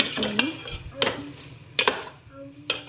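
Spice paste fries and is stirred in a pan, with repeated scraping strokes of a spoon against metal over a soft sizzle, spaced irregularly.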